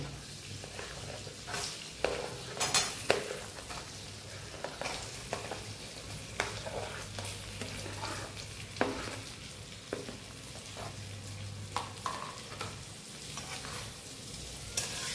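Boiled potatoes frying in butter over a lowered flame with crushed black pepper and chilli give a soft, continuous sizzle, broken by occasional scraping stirs and small crackling pops.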